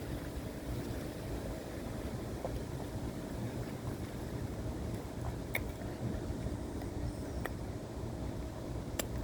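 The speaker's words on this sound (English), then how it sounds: "So it became too windy" Hurricane-strength wind buffets an outdoor umbrella, making a constant loud roar and rumble with occasional faint clicks and rattles, and no voices.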